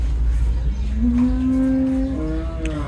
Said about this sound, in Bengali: এর পাশাপাশি দর্শক এখানে কিছু ইন্ডিয়ান ষাঁড় রয়েছে